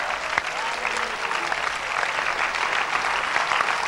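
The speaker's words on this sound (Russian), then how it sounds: "Подари ему аплодисменты." A church congregation applauds, dense steady clapping filling the room, loud and continuous for several seconds with no talk over it.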